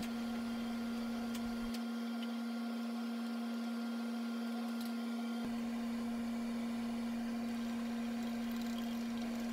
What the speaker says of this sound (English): mounting it back on the lathe to start uh, hollowing out the bowl